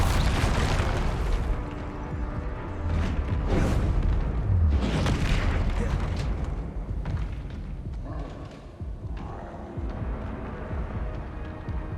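Confringo blasting spells exploding in the Hogwarts Legacy video game, a loud close series of heavy booms and bursts with rumbling tails, amid chaotic combat effects that thin out slightly toward the end.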